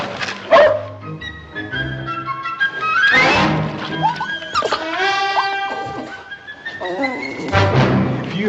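A dog, apparently a pup, gives repeated yips, whimpers and short barks close by. The sounds come in uneven bursts over several seconds with a few thuds between them.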